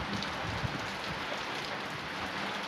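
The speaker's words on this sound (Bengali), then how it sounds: "দারুণ বৃষ্টি হচ্ছে" Steady, dense rain pours down during a sudden storm on a hot day, a continuous close hiss of drops with no break and no voices.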